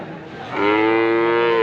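A Friesian bull calf at a Habiganj cattle market gives one loud, close, drawn-out moo rising from a low start into a sustained tonal bellow, with no talk.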